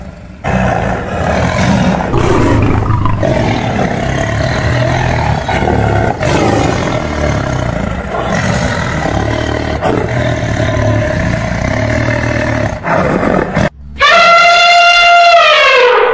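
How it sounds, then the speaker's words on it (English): A tiger roars in a zoo setting, long loud growling roars that rise and fall continuously, then a sudden cut to a brief tonal sound at the end. "Con hổ."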